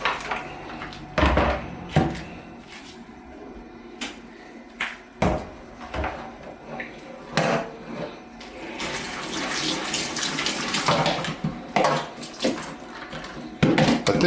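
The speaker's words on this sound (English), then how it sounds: "So let's give that a sieve." Cooked vegan food is drained through a sieve in a home kitchen, with running, splashing water and several knocks and clatters of cookware, building to a longer stretch of pouring water.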